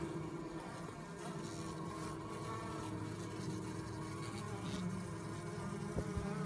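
Bees buzzing in a hive during comb removal, a continuous close drone of many insects with shifting tones and a faint tap near the end.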